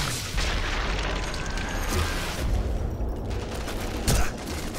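Gunfire in the World War II sniper game Sniper Elite V2 at a church: dense, rumbling bursts of shots and booms throughout, loud and continuous, with a sharper blast near the end.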